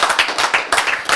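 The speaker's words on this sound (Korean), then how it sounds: "박수, 맞지?" Audience clapping in a lecture hall during a health talk on spiritual energy, a dense, steady patter of many hands filling the whole moment at close range.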